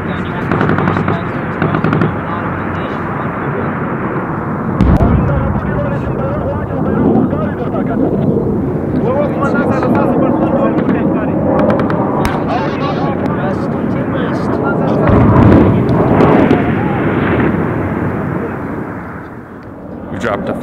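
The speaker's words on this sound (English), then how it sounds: "We dropped a 500-pounder, a 250-pounder, put suppressive fire down" A 500-pound bomb from an airstrike explodes in a valley in Afghanistan, heavy rolling blasts and rumble mixed with gunfire and aircraft noise, loud and sustained, with voices over the din.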